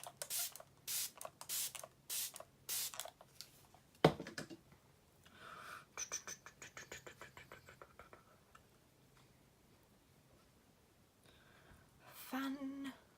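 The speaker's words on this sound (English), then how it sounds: "I'm just spraying my face with MAC Fix Plus" Short hissing bursts of MAC Fix Plus setting spray misted onto a face, several quick puffs close by, followed by quieter handling sounds.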